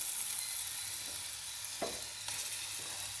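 Squid sizzles and fries in a hot pan, a steady dense hiss throughout with a brief stirring scrape partway through.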